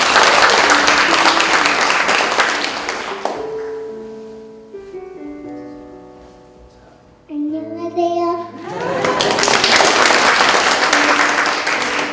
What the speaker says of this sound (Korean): 자, 여러분 박수 한번 쳐주시고